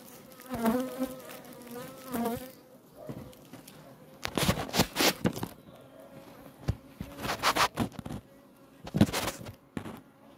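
Honeybees drone and buzz loudly on frames pulled from a hive, a dense close-up swarm hum with wooden frame knocks and scrapes amid handling, and someone talks intermittently.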